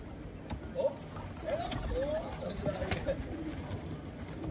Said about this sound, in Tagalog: Yung mga ibon, oh.